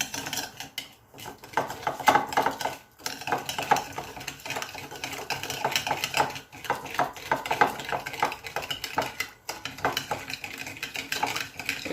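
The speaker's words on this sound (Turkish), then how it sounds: "Evet şimdi bunun içine zeytinyağı katıyorum." Olive oil is poured and stirred into dried thyme in a bowl, giving soft clinking, scraping and wet stirring noises that come in uneven bursts, close and fairly quiet.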